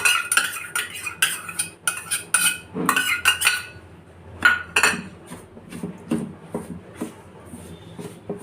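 A spoon whisks yogurt into semolina dosa batter in a bowl, giving rapid rhythmic metallic clinks and scraping bursts, close and fairly loud, that slow to scattered taps toward the end.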